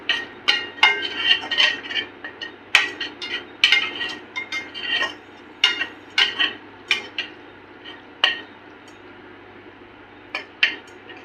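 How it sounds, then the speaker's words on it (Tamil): Metal spoon scraping and clinking against a pan while masala for chicken chukka is stirred and mixed on low flame, irregular close taps and scrapes with quiet pauses between. "லோ ஃப்ளேமில் வச்சு நல்லா மிக்ஸ் பண்ணிட்டே இருங்க."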